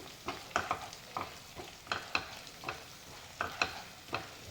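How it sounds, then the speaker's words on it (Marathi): Spices for a Konkani pomfret fish curry sizzle in hot oil as they are stirred, soft scraping strokes coming in irregular bursts over a low frying hiss. "त्याचा खमंग वास येऊपर्यंत आपण हे मसाले तेलात भाजून घेऊया"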